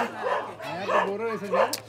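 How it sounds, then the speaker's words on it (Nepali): Dogs bark and yelp nearby in short repeated calls, heard under a person talking. "यहाँ कुकुर छ कुकुरहरू धेरै"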